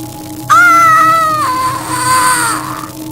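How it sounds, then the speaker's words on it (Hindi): A girl screams in an animated horror story as an electric shock hits her, a loud, strained shriek that starts abruptly, holds for about two seconds, then bends into a falling, wavering cry before fading. "कमरे में सिर्फ झटकों की खौफनाक गूंज थी, बिजली की चीखती आवाज और हड्डियों के अंदर तक घुसते दर्द की दहशत"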